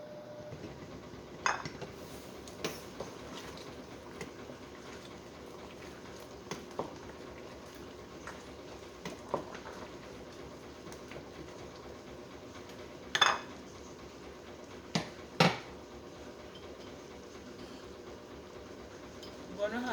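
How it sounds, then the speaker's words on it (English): Jamaican chicken feet soup stirred in a pot: faint scraping with scattered sharp clinks of a spoon against the pot, spaced irregularly over a low steady background. "I'm gonna add it and stir the pot."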